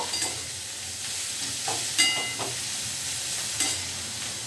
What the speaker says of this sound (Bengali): এরপর এটাকে সামান্য একটু ভাজবো।